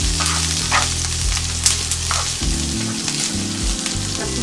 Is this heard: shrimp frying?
yes